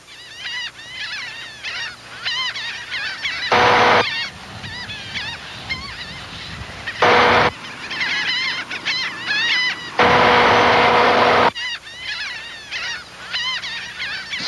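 Seagulls call in a TV public service announcement, giving repeated loud, honking cries in rapid bursts, broken by brief louder noisy bursts.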